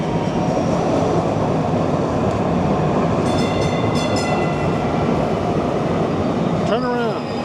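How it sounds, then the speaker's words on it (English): A DART train rumbles past in a broad, steady roar with a brief horn-like tonal burst midway and a squeal near the end, heard outdoors at close range. "Dart train."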